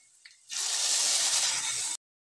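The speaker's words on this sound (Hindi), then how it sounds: "तेल गर्म हो चुका है, अब तेल में इसको मैं डाल दूँगी।" Garlic cloves tipped into hot oil as a tempering for arbi vade: a sudden loud, close sizzle bursts in and hisses steadily for about a second and a half, then cuts off.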